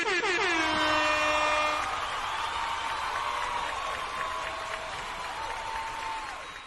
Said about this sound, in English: And both of you get an air horn.